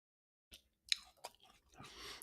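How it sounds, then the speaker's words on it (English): Close, crisp crunching and munching of food, with a few sharp bites and chews followed by a steadier stretch of mastication, no talking. "I'm gonna be munching"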